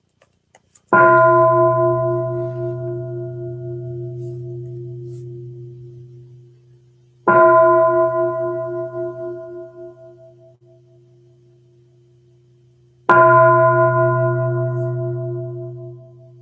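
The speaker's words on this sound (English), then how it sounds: "listening to 3 sounds of the bell" A bell is struck three times, evenly spaced about six seconds apart, each stroke ringing out clearly and slowly fading before the next.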